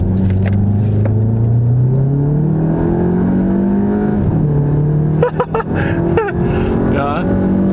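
A Volkswagen Golf 7 GTI Performance with 245 PS accelerates hard, its engine note climbing steadily in pitch and holding a strong, continuous drone, with a few sharper mechanical knocks near the end.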